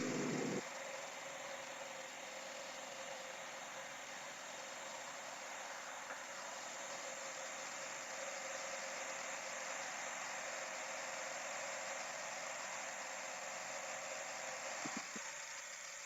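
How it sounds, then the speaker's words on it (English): A 1998 Mazda 626 with a 2.0-litre engine idling roughly with retarded timing, shaking badly with the air conditioning on: a steady low engine drone and hum, recorded close, with a brief click near the end. "the engine is really shaking quite badly"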